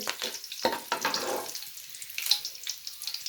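Freshly picked curry leaves sizzle in very hot oil for a bhindi (okra) fry, giving a crackling, spitting burst that is loud at first, then settles into a quieter, uneven sputter.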